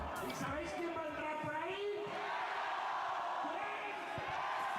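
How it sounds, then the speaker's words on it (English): Spectators cheer and whoop at Circuit Ricardo Tormo during a Clio Cup race, whipped into a frenzy by the MC, a steady crowd roar running beneath someone talking over it. "the MC certainly getting the crowd into a frenzy down there"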